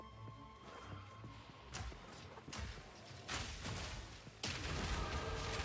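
Explosions from Path of Exile 2 gameplay with a Witch Hunter Grenadier: several sharp blasts burst at irregular intervals, each followed by rumbling debris, and they grow louder and denser toward the end.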